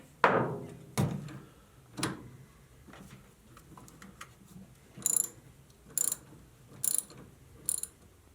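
A ratchet wrench clicks while backing off half-inch bolts that hold a Jeep CJ7 steering column to the firewall, with a few close loud pulls and then steady, evenly spaced metallic ticks in a quiet space.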